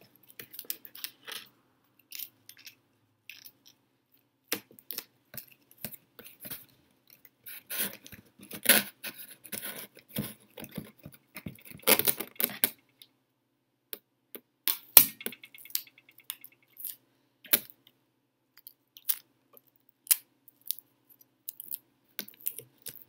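Cut end pieces of a paper towel roll being handled and attached as eyes for a craft project, heard as sparse light taps, clicks and rustles at close range with pauses between them.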